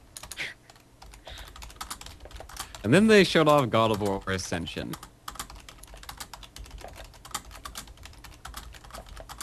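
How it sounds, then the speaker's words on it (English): Loud computer keyboard clacking during a gaming podcast, rapid irregular keystrokes running nearly the whole time, close to the microphone, with someone talking briefly in the middle. "Sorry, my keyboard is loud."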